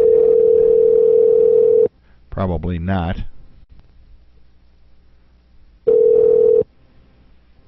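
Telephone call audio: a steady dial tone for about two seconds, then a brief burst of dialing tones, a quiet pause, and a second short tone burst, all loud and close with no voices.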